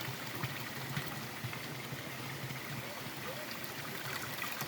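A mountain spring near Khustup outside Kapan runs in a steady, close, continuous gurgling flow that stays even throughout with no pauses.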